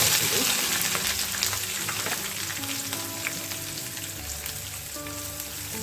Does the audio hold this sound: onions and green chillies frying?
yes